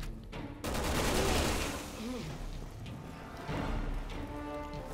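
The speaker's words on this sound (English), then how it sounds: "What a wonderful time to shoot one bullet." Gunfire in the video game Resident Evil 6: a loud burst of shots near the start, followed by dense, sustained firing and chaotic game noise, with a voice talking over part of it.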